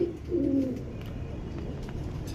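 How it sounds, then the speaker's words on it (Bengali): A pair of racer pigeons coos in low, soft bursts, with one clearer rolling coo early on and quieter murmurs after, close by over a faint steady background hum. "এক জোড়া সবজি রেসার কবুতর আমি আপনাদের দেখাই"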